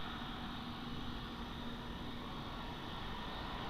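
Airplane taking off at Lisbon Airport, a steady, broad engine roar heard from a distance with a faint constant whine, unbroken and without speech.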